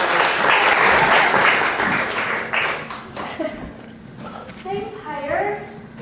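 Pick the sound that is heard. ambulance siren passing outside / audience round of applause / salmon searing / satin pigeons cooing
audience round of applause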